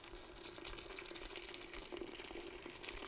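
Hot water poured from a tea kettle onto mashed cranberries for cranberry wine, a steady close splashing, gurgling stream that runs without a break and with no talk over it.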